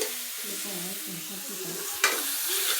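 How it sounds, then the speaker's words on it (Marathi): Spices with curry leaves, coriander, garlic and turmeric sautéing in a pan: a steady close sizzle with soft stirring scrapes and a sharp clatter near the end. "अजून एवढंच टाकलंय आणि छान असं परतून घ्यायचं आता हे"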